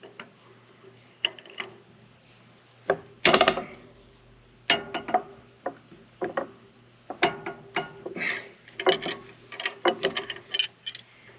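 Ratchet wrench clicking in short bursts as tight bolts are loosened a quarter turn at a time, likely during tractor maintenance on a farm, with sharp metallic ratcheting strokes separated by brief pauses and no talk.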